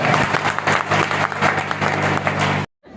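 A dense burst of applause from a large crowd at a meeting in Bihar, India, steady and loud for nearly three seconds before cutting off abruptly into silence.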